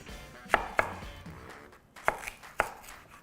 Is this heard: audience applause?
no